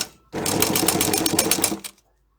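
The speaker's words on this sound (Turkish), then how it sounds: "Ters dikiyorum birkaç kat sağlamlaştırıyorum." A sewing machine back-stitches layers of a face shield in one fast, continuous close run of needle clatter, lasting under two seconds before stopping.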